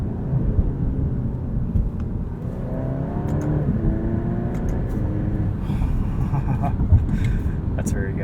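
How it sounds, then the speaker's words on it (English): A 2023 Alfa Romeo Giulia Estrema drives in dynamic mode, its engine note rising and dipping through quick paddle-shifted gear changes, heard from inside the cabin as a loud, steady rumble with a voice talking over it. "Use these wonderful paddle shifters. Pretty quick shifts, nice and responsive."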